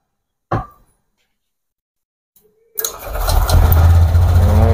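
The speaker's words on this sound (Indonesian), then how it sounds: "Kita coba hidupkan motor." A Honda Scoopy scooter engine is cranked after a sensor error reset, with a brief clunk, a pause and a faint click, then the engine catches and settles into a steady running rumble.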